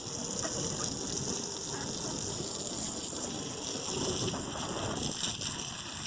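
Water gushes steadily into a ducks' water tub outdoors on a winter night, a continuous, fairly loud pouring rush that stays even throughout with no pauses.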